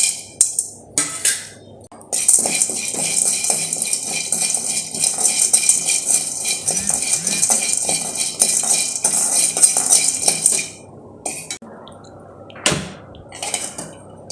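Shelled peanuts dry-roasted in a pan at home, heard as repeated metallic scraping and rattling of a spoon against the pan in bursts, close and fairly loud, with short pauses between.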